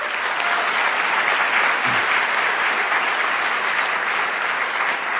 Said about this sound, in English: please give all the students a round of applause